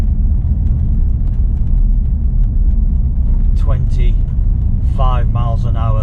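An old gas-converted car with bad wheel wobble drives slowly on a straight road, a heavy steady engine rumble and road drone close up, with brief voices and squeaks breaking in near the end.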